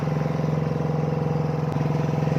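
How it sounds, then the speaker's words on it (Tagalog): Boat motor running on a trip by boat to Barangay Ubihan in Bulacan, a loud, steady throbbing drone with a fast regular pulse and no talk over it. "ang ingay ng motor ng bangka."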